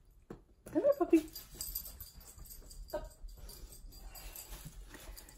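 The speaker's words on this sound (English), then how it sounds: "She is a little terrier mix" A small terrier mix dog gives a short burst of high whimpering whines near the start, close by, followed by quieter rustling and shuffling in an indoor room.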